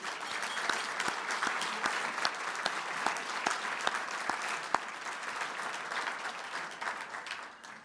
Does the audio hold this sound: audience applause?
yes